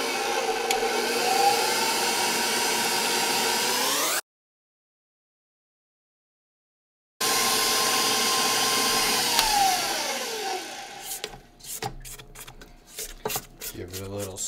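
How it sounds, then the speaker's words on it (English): Stand mixer kneading focaccia dough, a steady whirring motor hum close by that stops for a few seconds and then returns, ending with clattering scraping sounds. "so we're gonna put it onto the stand mixer now"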